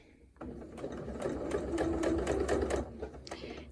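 An electric sewing machine stitches arch-shaped fabric onto the curved edge of a half-circle quilt block. Its steady motor whir and needle rattle run close and alone for about three seconds after a quiet start.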